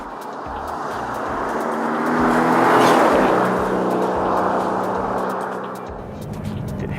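Aston Martin DB11 V8 driving, a steady engine drone and road roar that swells to a peak near the middle and eases off again, with no talk.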